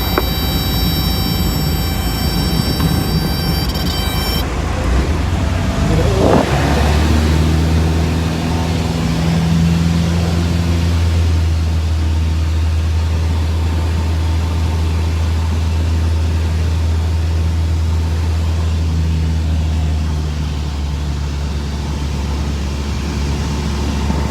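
A private plane taking off on runway 21, its engine droning loud and steady from inside the cabin, pitch rising as it powers up for the takeoff run and holding a constant roar afterward.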